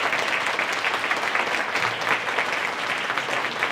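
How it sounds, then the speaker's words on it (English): Audience applause fills the hall after an elementary school wind ensemble concert, a dense, steady clapping that holds evenly at close range from start to finish. "Please give them such a big round of applause."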